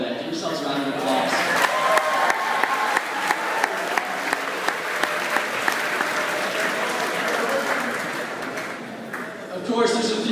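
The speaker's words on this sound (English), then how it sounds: "Give yourselves a round of applause." A school audience at Lake Catholic bursts into sustained applause after a speech, dense clapping with scattered cheers filling the hall steadily for about ten seconds before tapering off.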